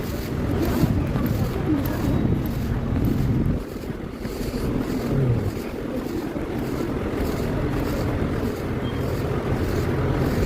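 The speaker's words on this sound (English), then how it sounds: "Holy fucking wind." Strong gusting wind buffets the microphone outdoors, a loud continuous low roar with rumbling surges that briefly dip before building again, with no one talking.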